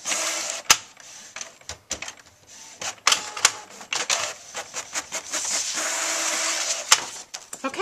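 A home printer prints a card made in Hallmark Card Studio on pre-scored cardstock fed from the rear tray, with close mechanical clicks and clacks, paper-feed whirs and a sustained motor run near the end, with no talking.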